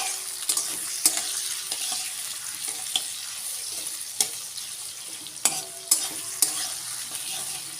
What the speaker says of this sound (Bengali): তো প্রথমে এভাবে পেঁয়াজটাকে আমি একটু ভালো করে ফ্রাই করে নেব।